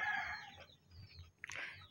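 Minecraft chicken giving a couple of brief, faint clucks, with quiet game background underneath.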